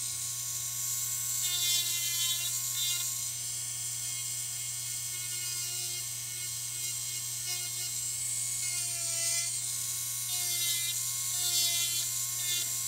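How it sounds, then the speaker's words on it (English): High-pitched electric nail drill with a reverse setting whines steadily while filing toenails during patient nail and callus care, with pitch wavering slightly as pressure on the nail changes, close and continuous with no talk. "This is why it's so important to have a drill with reverse."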